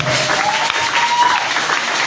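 A church congregation applauds to acclaim the Lord during a sermon on Joseph, a dense, steady wash of clapping that holds loud and unbroken throughout.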